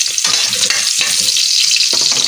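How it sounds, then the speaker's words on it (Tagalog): Garlic sautés in hot oil for a chicken curry, a loud, steady crackling sizzle filling the whole moment close up, with bursts of stirring scrapes. "atin naman igisa ang bawang"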